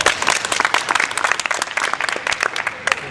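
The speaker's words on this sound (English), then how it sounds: "let's start them off with a round of applause" An audience at a live comedy show gives a lively round of applause, a dense spread of many hands clapping with crisp individual strikes near the microphone, holding steady and fairly loud, with faint voices mixed in.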